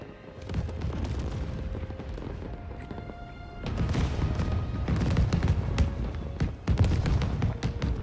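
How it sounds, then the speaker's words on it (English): Fireworks exploding in Marvel's Spider-Man 2 video game at Coney Island, a dense barrage of loud booms and crackling bursts that pauses briefly and then resumes even heavier. "That is a lot of fireworks."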